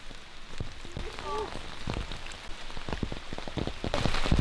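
Torrential rain pours down during a hike in the Ecuadorian forest, a dense, continuous patter of drops hitting leaves and surfaces, with scattered louder splats and a brief bird call mid-way, growing heavier toward the end.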